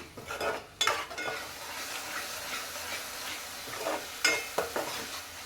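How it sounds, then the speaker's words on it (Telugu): Masala sizzling as it fries in a pan, stirred with scraping clatters of a spoon against the pot, a steady close hiss broken by several sharper scrapes. "మనకి మసాలా మంచిగా పచ్చి స్మెల్ పోయే వరకు వేగనివ్వాలి."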